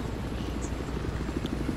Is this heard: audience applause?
no